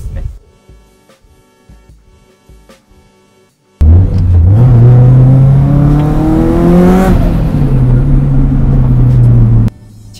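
A modified Subaru Impreza's engine is revved hard. After quieter low rumbling and knocks, a loud, close roar climbs and sweeps in pitch for several seconds before dropping back and cutting off.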